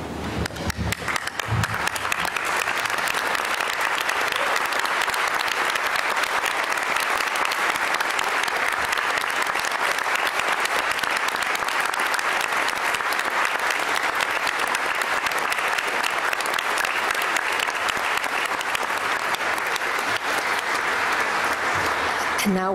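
A full graduation ceremony audience gives a final sustained round of applause, dense and steady, filling the hall loudly from start to finish.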